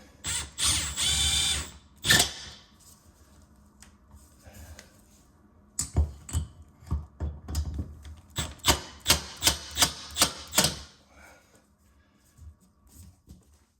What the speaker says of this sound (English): You can thread your bolt right in.